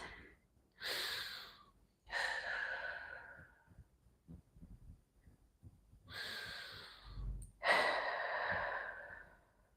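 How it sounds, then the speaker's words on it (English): Deep breaths during a gentle all-levels yoga session: several slow, airy inhales and long sighing exhales, close and soft, with quiet pauses between them. "Just taking a few deep breaths."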